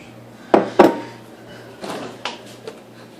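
A bowl for making a pet's food is handled, giving two sharp clinks as it is set down, then softer knocks and scrapes of kitchenware, close by against a faint steady hum.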